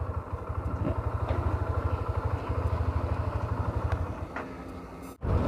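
A motorcycle idles steadily at a refuelling stop, its low, even engine pulse loud and close throughout, with a brief dip near the end.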